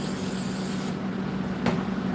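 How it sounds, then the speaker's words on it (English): Non-stick cooking spray hisses into a baking pan for gingerbread, a close continuous spray that breaks off sharply, followed by one brief second burst. "my non-stick spray. And I'm just going to spray it"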